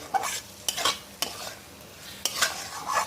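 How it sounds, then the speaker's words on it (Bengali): A spoon scrapes through a thick pointed-gourd and yogurt curry in a pan in several separate strokes, with quiet pauses between them. "এখন এইগুলোকে ভালো করে একটু নাড়াচাড়া করে মিশিয়ে নিচ্ছি।"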